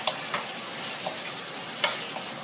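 Thai rice noodles with squid and shrimp sizzle steadily in a hot pan, with a few sharp scrapes and clacks from stir-frying breaking through the constant frying hiss.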